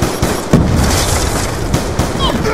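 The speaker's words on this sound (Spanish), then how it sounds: "Disparo efectuado." A crossbow shot fired in a video game cracks sharply amid a dense mix of other gunfire-like bangs and game noise, with people talking over it.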